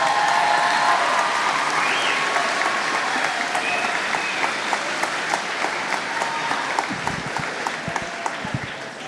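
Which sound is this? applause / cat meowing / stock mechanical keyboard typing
applause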